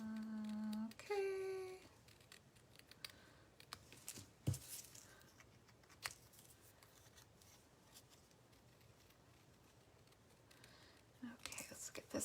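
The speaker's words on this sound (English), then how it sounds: "Almost done with cutting." Scissors snip through fabric pieces for a small quilt sampler, a run of crisp close cuts in a quiet room, with a short burst of humming or speech at the start and rustling handling in between.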